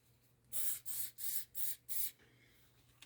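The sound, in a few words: hairspray being sprayed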